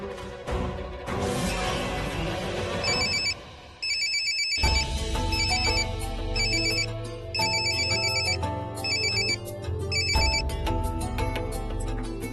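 A telephone rings on and on with a repeating electronic ringtone pattern while nobody answers, set over a steady low background of music and ambience, in a Hindi TV drama scene.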